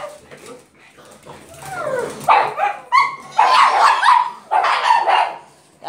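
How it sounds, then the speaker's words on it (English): A pug lets out a series of sharp, high-pitched barks and yips close by, with short pauses between bursts. "She's barking at you in the back."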